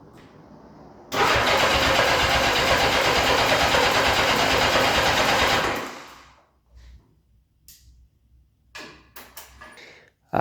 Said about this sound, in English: She cranks but no start.